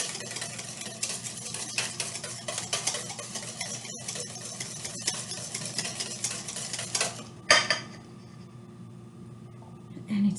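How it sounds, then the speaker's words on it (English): Melted butter is stirred into eggs in a pan for hollandaise, a steady scratchy scraping that runs for about seven seconds before dropping away to quieter handling. "And you need to stir."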